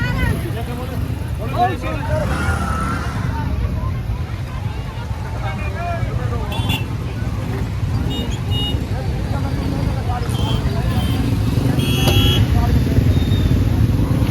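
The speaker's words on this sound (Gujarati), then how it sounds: "બાઈક રેલી લાગે છે, બાઈક રેલી." Motorcycles of a bike rally crawling through a heavy traffic jam on a hill road, a steady dense engine drone with passing vehicles, while people talk nearby throughout.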